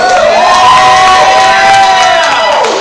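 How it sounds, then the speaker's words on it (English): A live comedy-show audience cheers and whoops loudly throughout, a dense crowd roar with high shouted voices rising and falling over a steady wash of noise. "Let's give a big round of applause for who's been up on the stage tonight."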